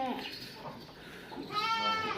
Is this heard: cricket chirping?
no